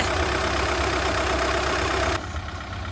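A 2015 Volkswagen Vento Highline engine idles with a steady low rumble, loud and close, dropping in level abruptly near the end.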